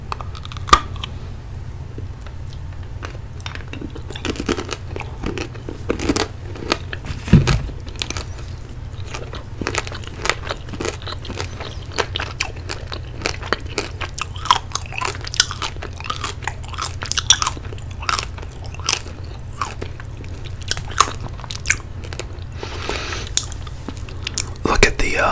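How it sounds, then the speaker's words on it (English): Close-up bites into hard chocolate rock candy, chewed with the back teeth, giving sharp scattered crunches and cracks over a steady low hum, with no talking. "That's hard chocolate in there. And let's have another bite"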